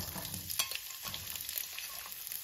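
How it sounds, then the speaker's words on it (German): Onions hit clarified butter in a hot pan and sizzle in a steady, crackling hiss with small pops, close up and without talk. "Sobald der Butterschmalz geschmolzen ist, können wir nun unsere Zwiebeln in die heiße Pfanne geben."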